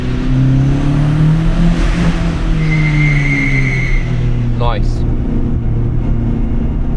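A turbocharged Renault Clio 182 driving on the Nürburgring, its engine droning steadily close by with pitch shifts as it accelerates, and a brief remark from the driver partway through.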